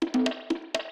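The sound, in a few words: reversed conga sample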